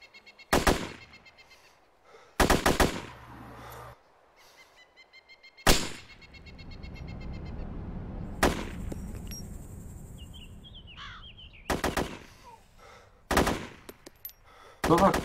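Gunfire in the video game Arma 2 DayZ: loud, sharp single shots and short bursts spaced irregularly across the scene, with quieter rumbling ambience and faint bird-like calls in between.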